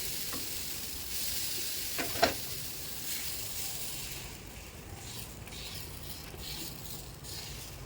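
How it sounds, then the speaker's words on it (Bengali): Banana pitha frying in ghee gives a quiet, even sizzle, with one or two soft knocks as a cake is turned over; no talking. "উল্টিয়ে পাল্টিয়ে আমি পিঠাগুলা ভেজে নিতেছি।"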